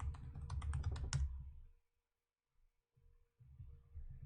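A computer keyboard is tapped in a quick burst of keystrokes as a password is entered, the clicks close and crisp for just over a second, followed by near silence and a few soft, faint taps.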